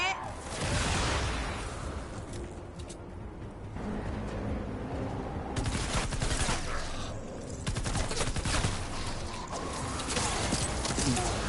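Weapons fire in the video game Fortnite, with dense rapid bursts and volleys of shots repeating across a steady loud battle din, with talking in places.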